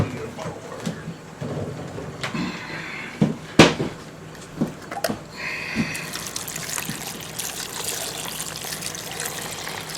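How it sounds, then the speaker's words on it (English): Water is poured or run from a tap into a pot of tomatoes being prepared for salsa, a splashing, running flow with a few knocks and clatters, becoming a steadier rush near the end. "Now, I'm going to add some water."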